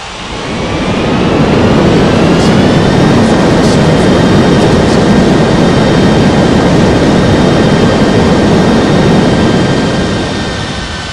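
An AirAsia jet airliner on approach to land at Bali's Ngurah Rai airport, a loud continuous engine roar with a broad rumbling body and faint whining tones, swelling in and fading slightly at the end.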